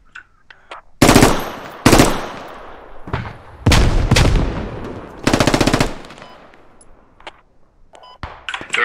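An MG3 machine gun firing in the military shooter Squad, several loud sustained bursts of rapid fire separated by short pauses, with scattered single shots and distant gunfire in between.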